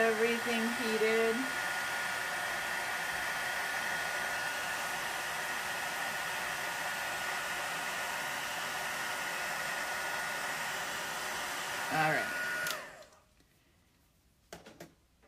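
A heat tool warms a rubber-stamped card for embossing at a craft table, giving a steady close blowing whoosh that runs for about twelve seconds and then cuts off, with a voice briefly heard at the start.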